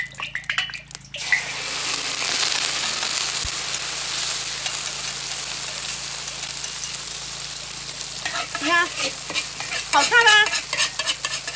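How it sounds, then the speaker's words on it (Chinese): Mixed ingredients stir-fried together in a wok at a Miao village home kitchen, giving a steady hiss and sizzle with spatula scraping, joined near the end by a woman's brief speech. "一般的话，他们比较喜欢分开炒，我都是混合炒"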